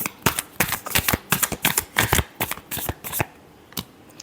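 Tarot cards shuffled by hand in a rapid series of crisp riffling bursts that stop near the end, close and clear with no talking.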